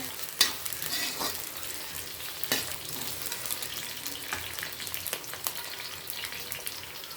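Capsicum and carrots stir-fried over a full gas flame for veg pulao, with a steady close sizzle broken by sharp spatula scrapes and clanks against the pan throughout.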